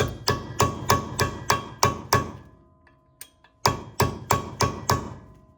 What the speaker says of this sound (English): So you gotta de-stake the axle nut right here. Use a punch or something.